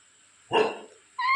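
A single sharp dog-like bark, loud and close, followed after a pause by a brief high whistly call starting at the end; a parrot mimicking a dog.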